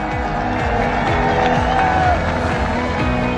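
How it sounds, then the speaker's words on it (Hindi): A huge outdoor crowd at the Noida International Airport foundation-stone ceremony claps and cheers in a dense, loud, unbroken roar, with scattered voices rising from the throng. "सामने लाखों की भीड़ ने तालियों की गड़गड़ाहट से स्वागत किया"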